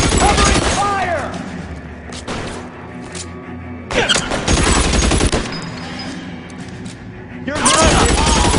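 Bursts of rapid gunfire in the 1940s Los Angeles crime game L.A. Noire come in three loud volleys, each a dense clatter of overlapping shots that fades into quieter gaps with faint voices before the next burst.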